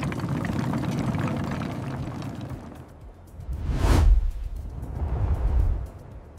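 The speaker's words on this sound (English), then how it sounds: "I dislike how like Veo has that like whoosh sound effect on every video they generate." An AI-generated Google Veo video carries a rushing background roar that swells into a prominent whoosh sweeping past about two-thirds through. A softer second swell follows near the end.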